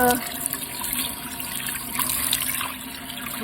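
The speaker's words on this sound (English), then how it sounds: "rinse it out" Water runs and splashes while rusty cast iron is rinsed, a brief, fairly loud steady rush of liquid at close range.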